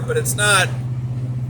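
A 1982 Ford LTD S engine runs steadily as a low, even hum that continues beneath a man's close, continuous speech.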